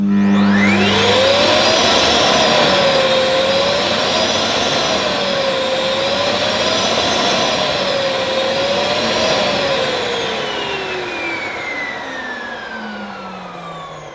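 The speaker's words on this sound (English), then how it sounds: "which is pretty powerful for a cylinder vacuum cleaner" A Ufesa Zelmer 4 in 1 multifunction cylinder vacuum cleaner spins up with a rising whine and runs loudly and steadily, its pitch wavering in slow cycles before the motor winds down and fades.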